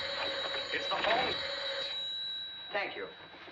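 An old telephone bell rings continuously at moderate loudness, with a voice talking over it, the ringing fading near the end.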